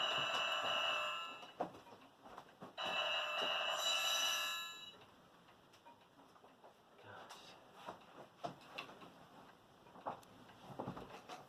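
Two bursts of a telephone ringing sound loud and close indoors, then quieter room noise with small scattered knocks follows.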